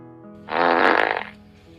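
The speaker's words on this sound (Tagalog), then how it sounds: "Naistatwa ako sa aking kinauupuan nang lumabas ang pinipigilan kong utot" A loud, drawn-out fart sound effect in a car scene, one sustained buzzing blast lasting about a second, with no talk over it.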